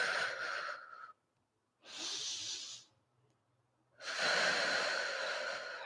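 Three long breathy exhales during a beginner Pilates workout, each lasting about a second and separated by short silences, close and fairly loud, with no talking.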